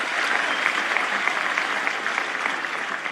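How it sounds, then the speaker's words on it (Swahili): A crowd applauds steadily at a thanksgiving service in Kirinyaga County, dense, continuous clapping from many hands that holds at a fairly loud, even level throughout. "Mpigieni makofi."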